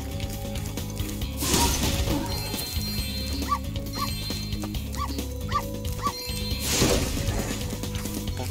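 A dog in the Spyro 3 Reignited Trilogy video game barks and yips repeatedly over game music. The sharp bursts come in an uneven rhythm and sound close and loud, with no speech.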